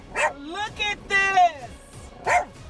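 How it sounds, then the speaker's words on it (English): A dog barks and yips at an alligator heading toward it on a road, with about four sharp, close bursts of barking separated by short pauses and a voice audible in the background. "setting the dog off barking as well"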